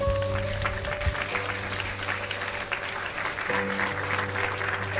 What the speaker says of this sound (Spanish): Denle un fuerte aplauso al que vive, hermano.